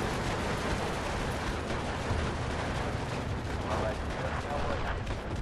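Steady battlefield din from the Steel Division 2 war game, with dense gunfire and the thump of mortar fire rolling on continuously without pause, fairly loud throughout.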